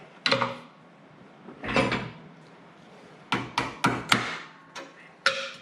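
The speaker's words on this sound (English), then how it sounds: "I know I'm using the wrong style hammer again. It's not a claw hammer." Hard, sharp blows from a non-claw hammer strike metal on farm equipment, a few spaced hits followed by a quicker cluster of five, close and distinct with quiet gaps between.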